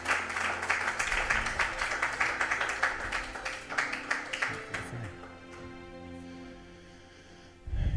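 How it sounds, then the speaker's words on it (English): Audience at a school fundraising gala claps in a fairly quiet, steady patter that thins out and fades over several seconds. "Clap and cheer in here."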